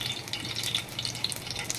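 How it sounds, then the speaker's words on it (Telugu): Hot oil sizzling softly and steadily as a tempering for gongura pachadi, a crackly hiss with small pops throughout, moderately near and fairly quiet, with no talking. "ఇప్పుడు బగారా వేసుకుంటున్నాను."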